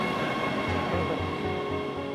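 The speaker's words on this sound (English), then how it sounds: "Oh, there's a train right there." An LA Metro rail train rolls past nearby, a steady broad rumble with rhythmic wheel clatter over the rail joints, continuous throughout with no voices.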